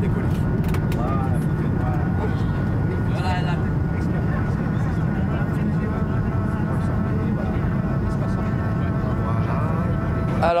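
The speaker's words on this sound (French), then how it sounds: "Et ça y est, il est déjà en train de décoller." From inside the cabin, an airliner takes off with a loud, steady engine roar filling the space while people talk over it.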